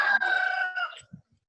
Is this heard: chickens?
yes